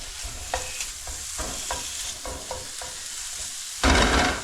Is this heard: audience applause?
no